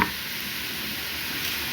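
Chopped onion frying in fat in a pan, a steady close hiss of sizzling that runs evenly throughout, with faint scraping from stirring and no voices.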